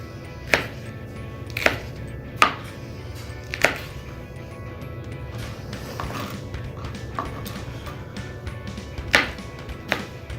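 A knife dices vegetables for guacamole on a cutting board, giving sharp, close chops in uneven bursts with pauses between them over a steady low background hum.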